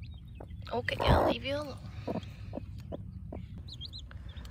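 A mother hen clucks softly near her seven newly hatched chicks, with faint high peeping from the chicks, while a person speaks quietly close by.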